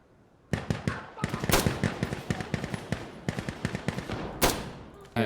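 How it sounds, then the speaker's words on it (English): Enemy gunfire in the video game Insurgency Sandstorm, rapid bursts of sharp, loud shots in uneven clusters with a few heavier cracks and brief gaps between volleys. "that's an enemy shooting at you"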